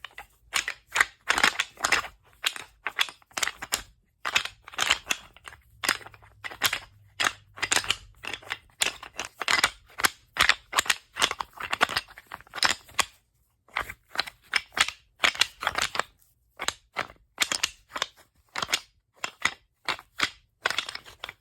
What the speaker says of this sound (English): This is the noise of antlers rattling together